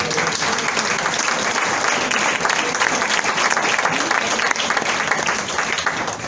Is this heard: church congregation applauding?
yes